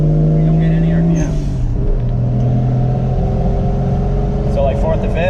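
Engine of a Mk3 Toyota Supra with a custom intake revving and holding through gear changes, 4th to 5th, a steady loud droning rumble with pitch shifts as it shifts, while people talk over it.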